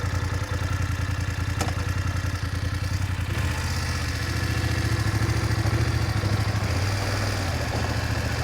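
An adventure motorcycle engine runs in enduro mode on a canyon road in Turkey. It gives a steady close mechanical drone that shifts tone partway through, and no voice is heard.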